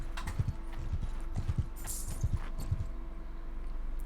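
Horse hooves clip-clopping in the Mount & Blade 2: Bannerlord video game, a steady rhythmic trot of paired thuds over a constant background hum.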